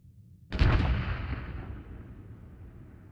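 A single controlled IED detonation in Arma 3 during a military simulation training op: one sharp, heavy blast after a short quiet, then a long rumbling decay.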